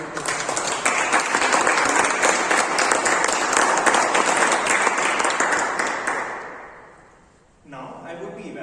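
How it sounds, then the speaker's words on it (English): Members of a Toastmasters meeting give the meeting's report author a long burst of dense clapping for about six seconds that then fades away, after which someone begins talking. "A huge round of applause to her."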